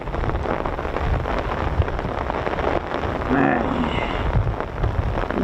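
Heavy rain falls at a USAF air base in England where KC-135 tankers and CV-22 aircraft operate, a dense, steady hiss of drops close by with a slight swell midway.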